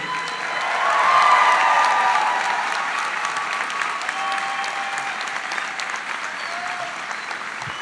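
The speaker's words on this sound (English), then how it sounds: "And a round of applause for our Ph.D. and master's graduates." At a college of pharmacy commencement, a large audience applauds Ph.D. and master's graduates with broad, continuous clapping that swells early, peaks, then holds at a slightly lower, even level.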